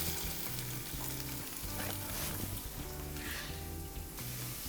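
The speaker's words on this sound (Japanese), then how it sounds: "でソフリットやるときはこの今の音聞いてください。" Garlic and aromatic vegetables for soffritto fry in generous olive oil in a hot pan over high heat, producing a steady, dense crackling sizzle that runs throughout, close but fairly quiet.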